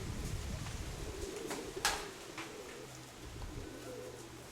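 A mottled hen pigeon gives low cooing calls, close by and continuous through the first half, then quieter, with a brief sharp knock partway through and no talking.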